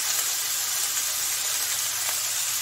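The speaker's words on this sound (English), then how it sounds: "Just pour a little bit of water around the edges here. See that steam?" Water poured around the edges of a hot pan holding a corned beef Reuben sandwich with Swiss cheese, giving a steady, continuous steam hiss that stays even and fairly close throughout, with no talking.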